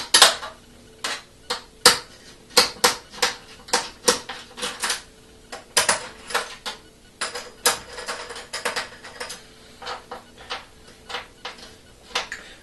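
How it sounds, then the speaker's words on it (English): Small screws being backed out around the edge of a PS3 console casing, giving a steady run of sharp, light metallic clicks and ticks at close range, spaced irregularly with brief pauses, no talking. "we're going to take off these screws here around the edge of the casing to access the motherboard"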